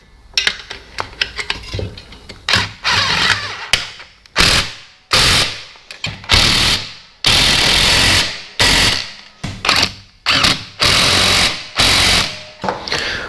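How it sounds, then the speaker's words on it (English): A 1/2 inch impact gun tightens nuts on the rear suspension bolts of a 1275 Classic Mini, firing repeated loud rattling bursts, each a second or so long with short pauses between, close by. "I'm just going to use a 1/2 inch gun with a spanner to hold these"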